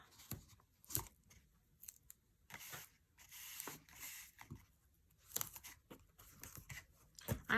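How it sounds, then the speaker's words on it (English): Strips of tear-and-tape adhesive torn off for a paper treat holder craft project, quiet crisp ripping bursts repeated at irregular intervals, close up with soft handling rustle in between. "I'm going to use 2 pieces of tear and tape for each flap"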